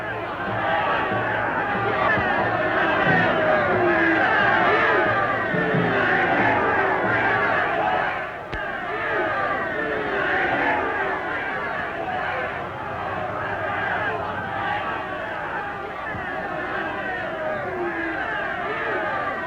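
A demonstration crowd is pushed back by advancing police clearing a sidewalk, heard as a dense, loud hubbub of many shouting and chattering voices, continuous throughout with a brief dip midway.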